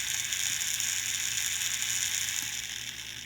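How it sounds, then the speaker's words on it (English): A small Snap Circuits toy motor winds down after its press switch is let go, giving a steady mechanical whir with a faint ratcheting texture that stays fairly even and fades slightly toward the end. "and the motor slows down significantly"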